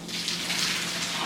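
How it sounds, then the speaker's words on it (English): Hot pasta water pours out of a pan while being drained, a brief steady gushing splash. "time to drain the water"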